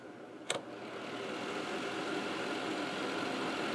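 An evaporative humidifier running loud with a rattly fan, a steady broadband whirring drone close to the mic that follows a single sharp click near the start.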